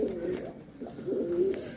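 A strong pigeon of the Nivi Roza type coos nearby in repeated low, warbling phrases that swell and fade over a faint background.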